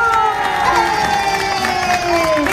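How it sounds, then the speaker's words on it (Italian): A live crowd in the Passerello area of Catania cheers and applauds loudly and steadily for a performer, with shouting voices and a sustained roar filling the whole stretch. "un applauso!"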